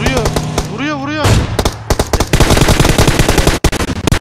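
Loud rapid automatic gunfire bursts from the mobile battle royale game PUBG Mobile, dense rattling volleys with a brief pause near the end, mixed with game audio tones at the start.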